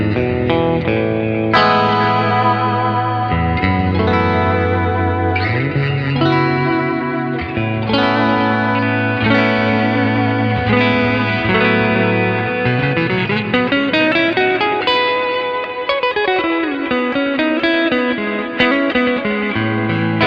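A yellow Warmoth partscaster electric guitar plays a continuous melodic passage with chords and sliding notes on a cleaner tone, with chorus and echo effects, close and steady with no talking.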